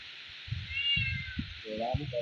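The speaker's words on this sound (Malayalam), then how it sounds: "എന്താ ഒരു പൂച്ച ഇതാ കണ്ടാ" A cat meows close up, with a thin drawn-out call followed by a couple of shorter meows. The calls are heard over quiet background noise.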